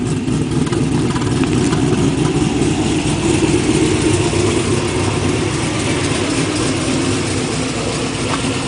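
A cold car engine idling with a slightly lean, loping beat, heard up close as a steady mechanical rumble and ticking that runs the whole time without speech.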